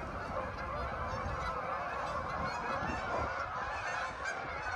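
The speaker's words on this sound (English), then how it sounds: "the geese are being a little bit loud in my only garage" Geese honk loudly and continuously near a garage outdoors, a dense overlapping flock chorus with no pauses.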